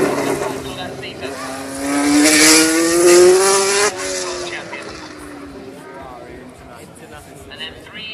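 A historic 1979 Formula 1 World Championship-winning car's engine, running at a motor festival, rises in pitch as it revs up, then drops away and fades into the distance, with a voice talking over it.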